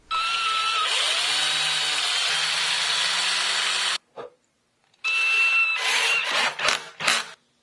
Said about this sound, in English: And drill pilot holes for those as well.